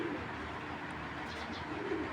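A Belgian-bloodline racing pigeon gives soft, low cooing while held for showing, faint against steady background noise.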